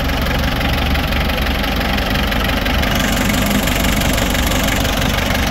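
A loud Mitsubishi 4D56 diesel engine with blow-by runs at idle with a rough, rapid knocking clatter, steady and close up, without any speech.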